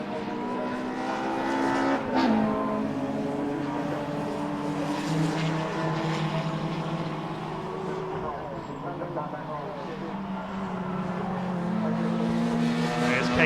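Race cars circuit a track at Donington Park during a BARC qualifying session with a BMW, Peugeot 306 and Rover 220 Tomcat Turbo, a steady engine drone rising and falling as cars pass under continuous commentary.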